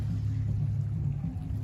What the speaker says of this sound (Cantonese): 又有隻船過